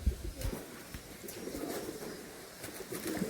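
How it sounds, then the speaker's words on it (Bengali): Andhra pigeons at a sale coo softly in a low, steady murmur, fairly quiet, with faint background noise and no talk. "এই সব পায়রা।"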